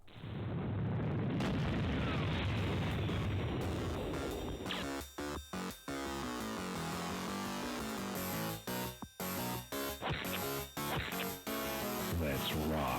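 Duke Nukem plays on a Pentium 4 board with ISA slots, giving loud booming video game explosions and sustained blasts that cut off abruptly in places, with synthetic game sound filling the whole stretch.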